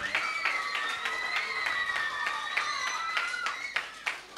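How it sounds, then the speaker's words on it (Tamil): An audience at a kids' Christmas party in a church claps, the separate hand claps rhythmic and fairly close and moderately loud, with children's voices and chatter running through the applause. "ஒரு நல்ல கைத்தட்டல்."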